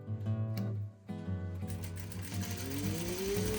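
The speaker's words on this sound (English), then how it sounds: "brought them over to my sewing machine to sew them" A sewing machine stitching fabric quilt squares runs in quick mechanical bursts, a brief pause, then steady rapid stitching with a rising whine, close and fairly quiet.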